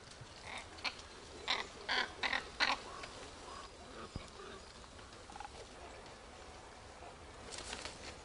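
Ravens in an Austrian nature reserve give several harsh croaking calls in a quick cluster, then a few fainter scattered calls, moderately distant over quiet outdoor ambience.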